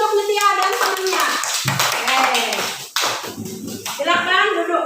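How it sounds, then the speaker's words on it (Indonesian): A primary school class claps for a pupil and her friend, loud uneven clapping mixed with children's voices, pausing briefly midway before resuming with chatter over it. "Kita kasih tepuk tangan dulu untuk Nitya dan temannya."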